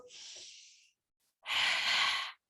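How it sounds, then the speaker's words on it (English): Slow, deep breathing through the nose up close: a softer airy breath, a brief pause, then a longer, louder and fuller inhale. "You need to do long, slow, deep breaths. In through the nose,"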